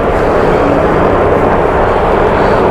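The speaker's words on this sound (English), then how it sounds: "Not quite sure what's going on with these helicopters" Helicopters flying overhead at Little Island in New York City, a loud, steady rotor and engine rumble filling the scene continuously without a break.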